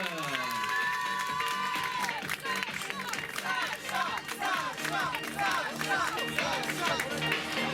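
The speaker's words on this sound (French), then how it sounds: "On va leur réserver un tonnerre d'applaudissements." A large crowd at a 10 km race prize ceremony in Seurre, France, applauds and cheers loudly and continuously, with whistles and shouts rising over dense clapping, while a voice speaks over the noise.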